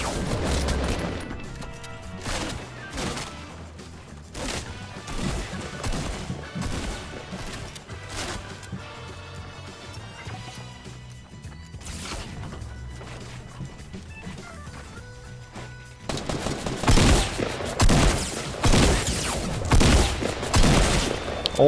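Repeated gunfire bursts and sharp sniper-style shots in a Fortnite Battle Royale match, with loud dense firing throughout, heavier near the end, over game music and sound effects.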